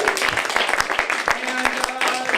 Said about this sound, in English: Let's give one more round of applause for everybody you've seen tonight.